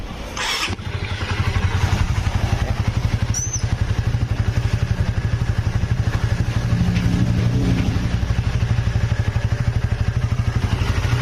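A Honda Sonic motorcycle engine catches after a short starting burst, then idles with a steady, rapid, close putter and a few faint clatters.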